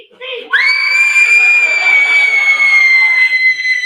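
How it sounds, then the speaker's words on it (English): Loud, sustained scream from a person during an improvised comedy performance, starting abruptly after a brief murmur and holding a piercing high pitch for over three seconds. "Because I scream more each time."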